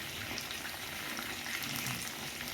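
Pumpkin pieces cooking in a pot of boiling water, a soft continuous bubbling and hissing simmer, close and fairly quiet, with no voices.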